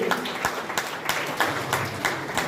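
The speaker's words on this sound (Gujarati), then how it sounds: "ખૂબ ખૂબ તાળીઓથી વધાવીએ" An audience claps for honoured teachers at a Teachers' Day award ceremony in Chhota Udepur, a brisk, rhythmic round of applause from a crowd, steady and fairly loud with no talk over it.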